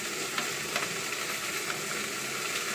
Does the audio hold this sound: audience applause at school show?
no